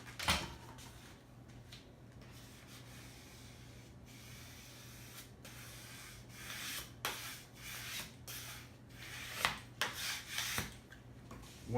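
A vinyl stencil is rubbed down onto a pinball cabinet, giving quiet, uneven rubbing and scraping strokes close up, with a few sharper bumps and a steady low hum underneath.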